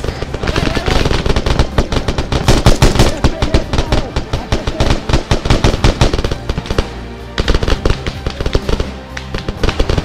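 Rapid, loud, sustained machine gun fire in Arma 3, with dense bursts of overlapping shots and only brief pauses, up close.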